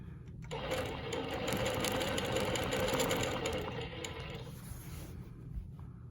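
A longarm quilting machine stitches a Baptist Fans pattern with a continuous rapid mechanical whir and clatter that runs steadily, then tapers softer near the end; no voices.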